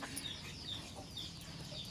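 Soft clucking of hens with chicks, a few short calls repeating irregularly against a quiet, murky background.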